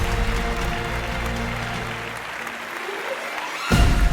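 Audience applause fills a hall at the Madhampatty Golden Leaf Awards 2023 ceremony, a steady dense clapping that eases slightly midway, then surges louder near the end.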